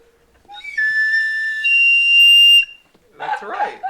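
A whistle is blown into in one loud, steady, shrill blast lasting about two seconds, followed by a person talking.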